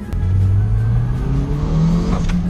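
Boosted engine of a Toyota MR2 SW20 revving up hard, a loud rising drone heard from inside the car over about two seconds, then a brief dip and climb.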